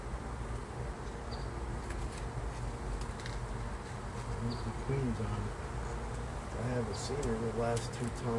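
Honeybee drones crawl over a hive frame of capped brood, producing a dense, steady buzzing hum with a few louder passing whines, while a person talks quietly under the droning.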